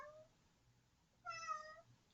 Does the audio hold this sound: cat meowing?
yes